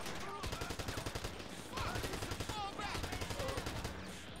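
Video game gunfire, rapid machine-gun bursts and overlapping shots in a continuous dense barrage, loud and close, with game sounds mixed in.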